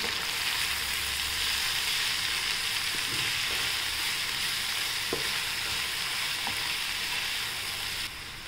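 Garlic, chillies and fenugreek greens sauté in hot oil for a dry vegetable dish, a steady close sizzle with occasional stirring clicks and scrapes from a spoon, and no talking.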